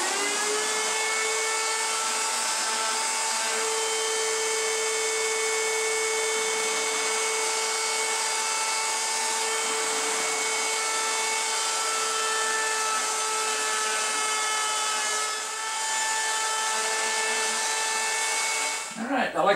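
A router spinning a chamfer bit runs steadily along the edge of the main wooden piece of an Outlaw brake, a continuous high whine held at an even level throughout and cutting off at the end.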